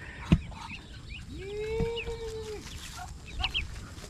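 Ducks are herded toward a pen, and a few close, loud quacks and calls ring out over a noisy outdoor background with no talking.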